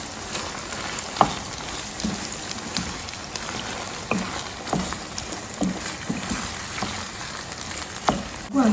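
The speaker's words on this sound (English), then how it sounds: "And then add our chopped tomatoes. Go ahead and stir everything in." Chopped tomatoes stirred into a frying garden egg and cabbage stew, loud close sizzling like rain with regular scrapes and clacks of the spoon through the pot.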